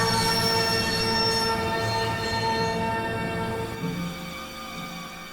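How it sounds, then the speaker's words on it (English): A train braking in the Broken Sword video game, set in Scotland, with loud, sustained metallic wheel squeal ringing over a rumbling rail bed that fades and drops off near the end. "I'd always wanted to stop a train, and now was my chance."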